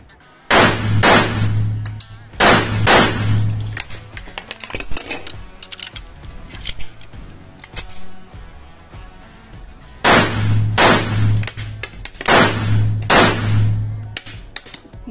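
Gunfire at an indoor firing range during practice shooting, loud sharp shots fired in quick clusters of several rounds, a burst near the start and another near the end with quieter handling noise between.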